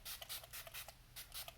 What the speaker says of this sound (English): I'm going to set the face before I do lips with my 3-in-1 Cucumber Setting Spray by Wet n